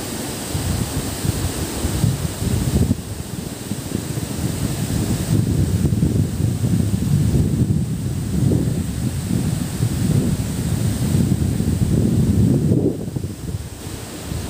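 Fast-flowing river full of large rocks, swollen after days of rain in a village in Dongko, a loud, continuous rushing roar of water with some wind noise.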